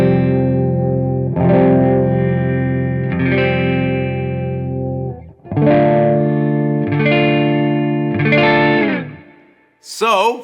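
Fender Jaguar electric guitar with the tone knob rolled down, giving a dark, muffled tone: a long held chord, then several more strummed chords swelling and decaying, ending with a brief scrape.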